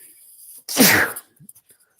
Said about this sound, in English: very, very professional sneeze on air